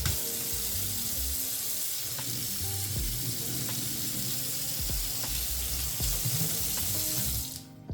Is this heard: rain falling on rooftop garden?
no